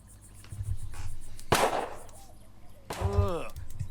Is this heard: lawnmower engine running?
no